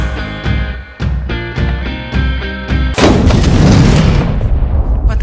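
Gunfire and a blast as a main transmitter is shot until it explodes in a film scene: several sharp, evenly spaced shots, then a loud, sustained explosion roar with crackling debris, close and forceful, with no talk.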